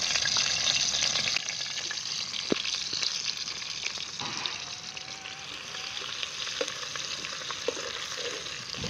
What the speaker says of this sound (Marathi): मोहरी मस्त अशी मोहरी तडताडून दिली की कढीपत्ता आहे आलं आणि लसूण तिथून घेतलेलं आहे